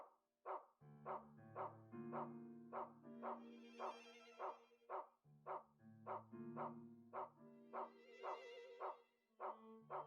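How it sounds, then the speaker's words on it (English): A dog barks in a steady, repetitive rhythm, short sharp yaps repeating over a droning tonal background, with no voices, from the video game Rule of Rose. "when I listen to him barking"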